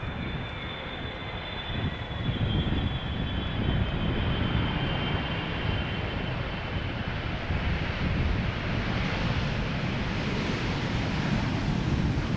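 Qatar Airways Boeing 777-300 in oneworld livery arriving at Schiphol, a broad steady jet roar with a faint high whine, rising slightly as the aircraft draws nearer, moderately distant and continuous.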